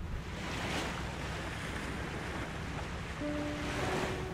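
Waves and wind wash steadily around a 1500-tonne barge heading up the Danube from the Black Sea, a continuous broadband surge with gusty hiss and a faint tonal hum near the end, no voices.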